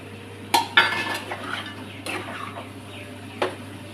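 A spatula stirs egg curry in a pan, scraping and clinking against the metal in a few sharp, irregular knocks over a quiet background.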